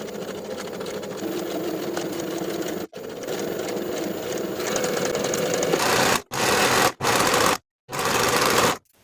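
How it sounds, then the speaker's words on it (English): A sewing machine runs steadily, sewing the shoulder and side seams of a shirt dress in a long continuous whir, then stops and starts in several short bursts near the end. "Sew both shoulder seams and both side seams with a 1/2 inch seam allowance."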